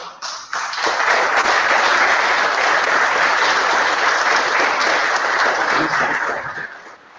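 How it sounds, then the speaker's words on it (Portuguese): A church congregation at a Sunday morning service breaks into applause, dense clapping that builds quickly, holds steady for several seconds and then tapers off. "Uma salva de palmas, né?"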